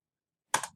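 A couple of quick computer keyboard keystrokes after a near-silent pause, short sharp clicks close to the microphone.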